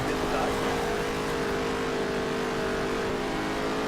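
A dirt race car engine in NASCAR Heat 3 roars at sustained high revs on a dirt track, a loud, constant buzzing drone that holds steady throughout.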